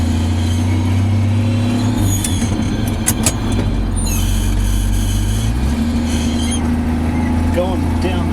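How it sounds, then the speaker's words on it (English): A 1972 Chevy Custom 10 pickup work truck driving down the road, a steady low engine drone with a shift in pitch partway through, plus brief clanks or squeaks from the truck bed, while someone talks over it. "Going down the road in my Chevy truck."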